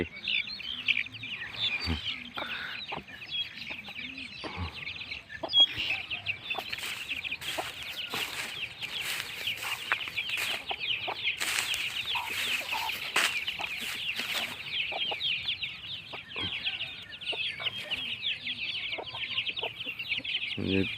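Domestic chickens cluck steadily in a busy chorus during morning feeding, with scattered higher chirps mixed in, continuous and fairly close throughout.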